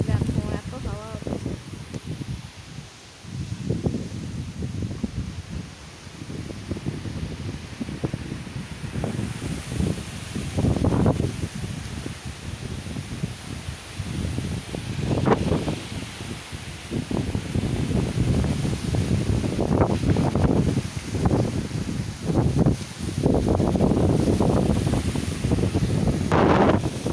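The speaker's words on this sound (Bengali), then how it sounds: "গাছগুলো ভেঙেই যাবে, এমন ঝড় হচ্ছে দেখো।" Stormy wind buffeting garden plants, including marigolds, with continuous rough rumbling gusts that swell and fade against the microphone, while a voice talks intermittently over it.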